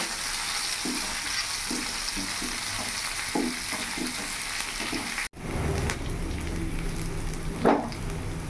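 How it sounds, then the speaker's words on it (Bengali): Garlic and ginger shallow-fry in sizzling oil in a pan, with soft stirring taps early on, a brief drop-out midway, then louder frying and a clatter near the end. "এবার ভালো করে এটাকে শ্যালো ফ্রাই করে নেব"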